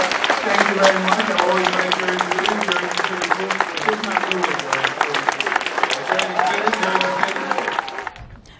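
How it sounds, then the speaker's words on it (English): Steady applause from an audience for the cast at a prisoner reentry conference at a university in Jersey City, dense clapping that carries throughout while someone speaks briefly over it, fading near the end. "Can we give a round of applause to the cast?"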